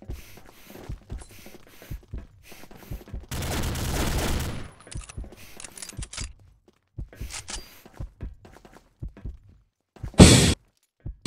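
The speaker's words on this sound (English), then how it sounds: "Ooh, nade spamming." Grenades being spammed in a video game: a dense burst of explosive noise lasting about a second, then scattered thuds and pops, with a single sharp loud blast near the end.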